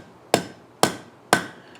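Three evenly spaced, sharp hammer blows on a 3/8 steel rod laid over a mandrel on an anvil, each ringing briefly and decaying fast, close and loud with quiet between.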